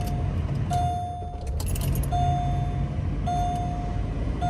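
Keys jangle and rattle close by as a Pontiac G6 with a cold engine is switched on, the car's steady hum and an intermittent electronic warning chime running underneath, with no voices.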